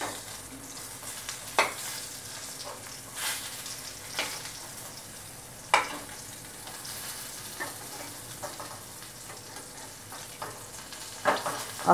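Stuffed pointed gourds frying in a pan on medium heat after being flipped, with a soft continuous sizzle and crackle and scattered sharp spits and pops, fairly quiet overall.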